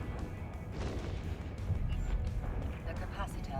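Blaster fire in a video game rattles as a dense, continuous barrage of crackling, booming shots, loud and close, with a voice talking over the noise throughout.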